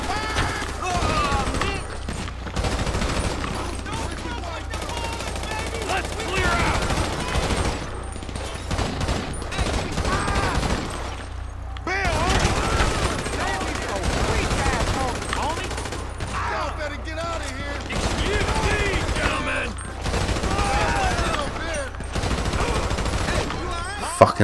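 Dense gunfire from the video game Grand Theft Auto V rattles almost nonstop in rapid overlapping bursts, loud and close, with a voice talking over the shooting.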